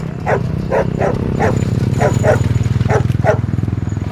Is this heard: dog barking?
yes